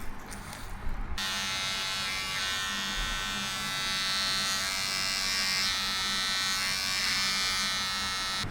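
An electric shaver running continuously while shaving, a steady close buzzing hum after a brief rustling start, holding level for several seconds without talk.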